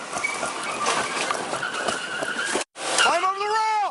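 A suspect's car rams other cars during a police standoff, with loud tire screeching rising in tight bands near the end after a brief gap, over a steady background of engine and street noise; shouted voices can be faintly heard.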